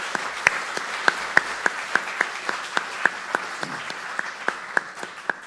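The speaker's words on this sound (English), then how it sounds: "So give them a round of applause" An audience at a cartooning festival event applauds the guest artists, a light, even patter of claps with a few sharp, close individual claps standing out in a regular rhythm.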